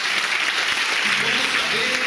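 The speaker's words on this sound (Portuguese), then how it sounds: "Aplauda o Senhor, irmão." A church congregation claps in praise, dense steady applause with a few voices calling out underneath.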